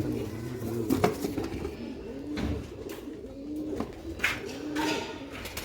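Black-faced pigeon chicks coo softly in a series of low, throaty calls, fairly close but quiet, with faint clatter and background noise between the calls.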